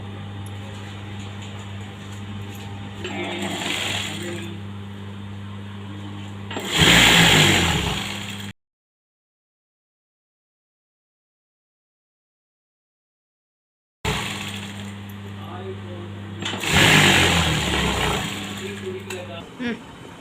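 A sewing machine stitches along a saree edge in two bursts of whirring, clattering mechanism, separated by a stretch of silence, with a steady low motor hum under each burst.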